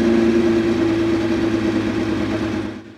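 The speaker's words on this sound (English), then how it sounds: "you have to warm the engine, get the oil up to a certain temperature and the water up to a certain temperature" A Ferrari 312PB race car engine idles while warming up, a loud, close, steady mechanical drone with a firm low tone that fades slightly at the very end.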